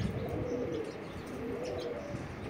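Three pigeons gathered on a rooftop at night, with a low, steady murmur of cooing running throughout, fairly faint and continuous, with no voices.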